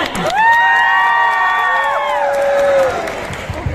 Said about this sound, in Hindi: हाँ तो जोरदार ताली बजाओ भाई, जोरदार।